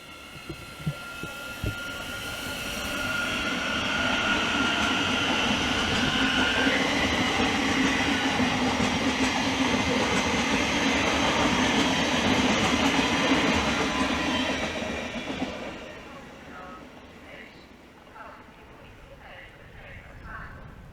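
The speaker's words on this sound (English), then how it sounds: "700-041 is now departing off to its next stop of Stevenage." Class 700 electric multiple unit 700-041 pulling out of Hitchin station on the East Coast Main Line, a steady close rumble with wheel clatter and a rising hum that swells for about fifteen seconds, then fades as it moves away.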